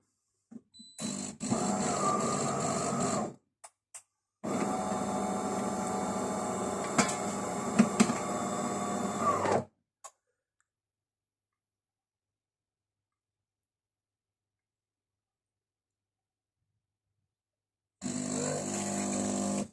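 A De'Longhi Magnifica Start coffee machine switches on with clicks, then runs in two bursts of pump whirring and hum as it rinses its spouts. A long silence follows before the pump starts again.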